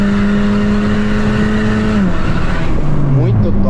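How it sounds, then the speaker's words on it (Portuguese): A Honda Civic roars loudly through an exhaust diffuser with a steady, close drone that drops in pitch partway through, then rises and falls again as the engine is revved. "Você que tem Civic, que é um ronco assim"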